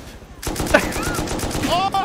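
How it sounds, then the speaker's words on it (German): Gunfire in the survival game Rust aimed at a pilot: dense, rapid automatic shots crackle loudly and continuously, mixed with shouting voices. "Wir wollen auf den Piloten schießen!"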